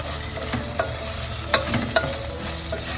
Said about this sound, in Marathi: बघते आपला कांदा आणि टमाटा चांगला परतून घेतलेला आहे